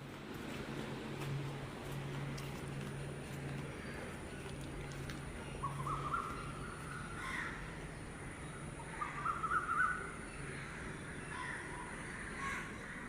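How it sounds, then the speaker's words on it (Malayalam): Outdoors in the early morning, crows caw and other birds call faintly and at a distance, with a few short chirps rising over a quiet, low background hum. "നിങ്ങളിപ്പോൾ കേട്ട ആ കിളികളുടെ ശബ്ദം"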